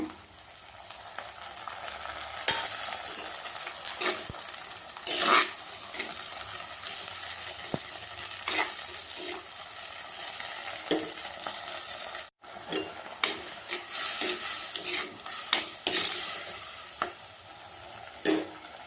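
Tomato stirred into frying eggplant thokku, giving a continuous sizzle broken by spatula scrapes and the occasional clink of the pan, close and steady, with one brief pause partway through.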